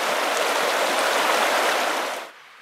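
Smith River stream flowing at its last ford in the Bob Marshall Wilderness backcountry, a steady, close, broadband rush of water that holds level and then cuts off abruptly near the end.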